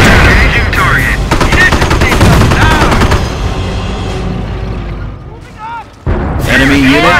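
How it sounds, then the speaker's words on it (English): Dense gunfire and explosions from a Normandy invasion battle in the Company of Heroes video game, loud machine-gun bursts and booms layered over each other, with shouted voices in the mix and a brief lull near the end. "Taking fire!"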